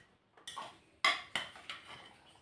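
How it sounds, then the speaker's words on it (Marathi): Cooked puran, a jaggery and lentil filling for puran poli, pressed and scraped through a metal sieve: a few sharp metallic scrapes and knocks in quick succession, close and moderately loud, with no talking. "आता या चाळणीवर टाकून पुरण असं चांगलं बारीक करून घेते।"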